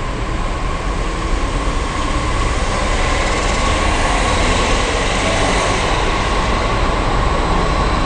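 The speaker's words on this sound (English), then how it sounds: "We're going to pass through platform 1." A train rolls steadily through a station platform, loud and close, with a continuous rumble of wheels on rails and no voices over it.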